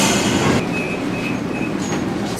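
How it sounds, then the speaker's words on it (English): Passenger train ride heard from inside a railcar: steady low rumble of the wheels on the rails with a brief high squeal of wheels on steel, close and continuous, no talking. "So what do you think of riding the train?"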